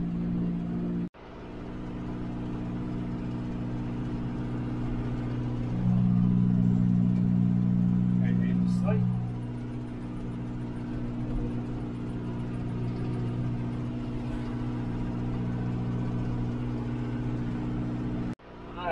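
A John Deere 5101 tractor engine runs steadily at close range while brush cutting, a constant low diesel drone that swells louder for a few seconds mid-stretch before settling back to an even hum.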